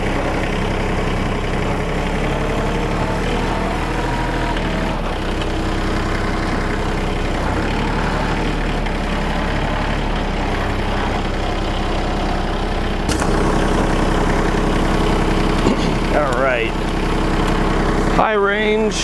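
A gear drive lawn tractor engine runs at a steady, close idle, a continuous low chugging, with a voice speaking over it and a brief clunk near the end.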